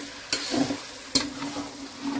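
Chicken with a spoonful of spices fries in oil in a pan, a close steady sizzle broken by two sharp scrapes or taps of a spatula and some stirring; no one speaks.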